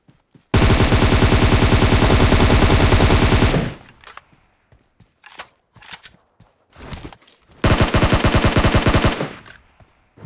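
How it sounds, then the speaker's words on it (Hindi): Automatic gunfire in the Battlegrounds Mobile India battle royale game: a long sustained loud burst of rapid shots, a few scattered single reports and footstep-like sounds, then a second extended burst near the end. "यहाँ सामने की साइड से गोलियाँ की आवाज़ आ रही थी"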